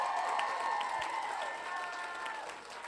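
Audience applause and light cheering at a 2022 cosplay contest honoring the novice category winner, steady and full for about three seconds with no speech over it.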